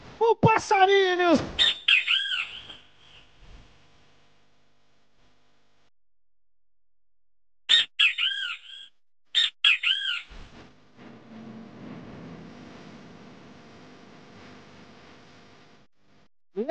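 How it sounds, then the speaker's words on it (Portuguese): Bird chirps and squawks with swooping pitch, played at a live carabao music show with a DJ in Vigia, come in short loud bursts at the start and again midway, slightly distorted, with quieter crowd or voice noise between. "Esse passarinho eu sei que ele traz."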